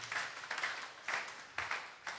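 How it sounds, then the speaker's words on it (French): Applause for the Lord rises at a church service in a few loud bursts of clapping that swell and fade. No talk is heard over it. "applaudis le Seigneur officiellement"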